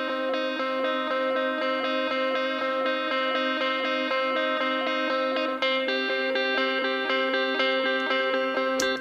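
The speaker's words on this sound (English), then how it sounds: "This is ambient echoes. It's just one of the presets, and I've changed the timing of it just to make it a bit more interesting." Layered tuned percussion run through an ambient echoes effect preset with altered delay timing, a dense, steady wash of ringing metallic tones and repeating echoes sustained at even loudness throughout, with no voices.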